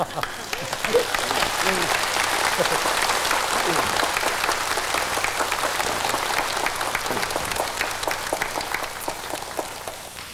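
An audience applauds for about ten seconds, a dense, even patter of many hands clapping that fades slightly toward the end, with some voices beneath it.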